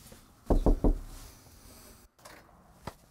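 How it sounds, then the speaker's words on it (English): Three quick knocks on a front door land close and clear in a fast even rhythm, followed by a quiet pause and a single fainter tap. "I think we should knock on the door and see if Grandma's home."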